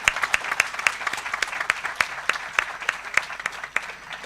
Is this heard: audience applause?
yes